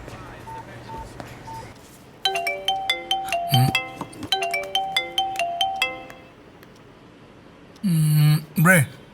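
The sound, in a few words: phone ringing while setting up a conference call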